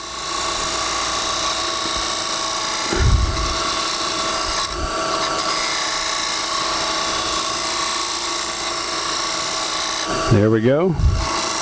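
A wood lathe spins steadily as a gouge turns a bead, riding the bevel for a cleaner cut, giving a continuous droning hum with brief scraping bursts near the start and end; someone speaks briefly near the end.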